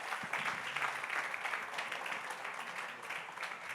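An audience applauds steadily, a dense wash of clapping that holds even throughout, heard at a moderate distance.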